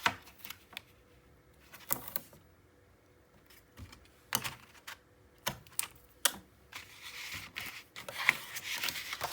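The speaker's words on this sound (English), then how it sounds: "I need to put my tape on." Adhesive tape being handled and pressed onto paper pages of a Stamperia Vintage Library mini album, heard as soft, irregular crackles, rubs and sharp little taps, close and quiet with no talking.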